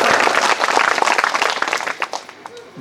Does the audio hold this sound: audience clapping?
yes